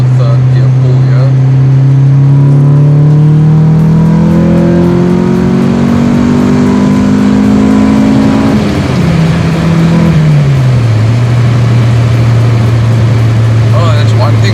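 Car engine accelerating hard through a third-gear pull, the drone climbing steadily in pitch, dipping at a gear change, then holding a loud steady roar close by, with a voice speaking over it.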